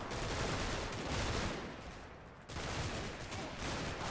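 Sustained battlefield gunfire from a Panzer IV tank in Combat Mission: Battle for Normandy, a dense, loud barrage of overlapping shots with a brief lull midway before firing resumes at full intensity.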